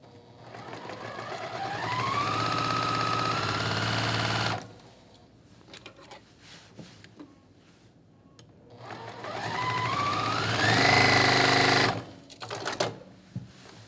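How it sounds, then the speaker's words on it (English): Sewing machine stitching a 1/4 inch seam on quilt blocks, two sustained runs of whirring motor with rising pitch as it speeds up, close and clear, separated by a quieter stretch of fabric handling and clicks. "I'm going to sew with a 1/4 inch seam down here"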